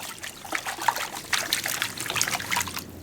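Water trickles and sloshes in a gold pan as limonite material is worked, giving soft splashy dribbles close by with no talking.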